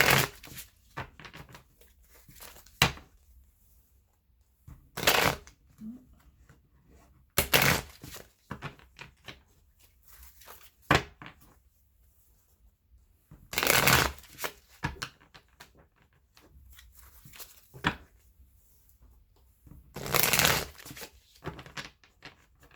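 Wildwood Tarot cards are shuffled in repeated short riffling bursts spaced a few seconds apart, close and crisp, with quiet handling between them and no talking.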